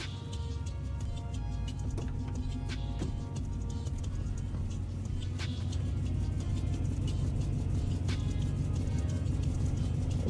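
A 1994 Chevrolet Caprice engine idles steadily after a new belt is fitted, a constant low hum with faint ticking, close and unbroken throughout.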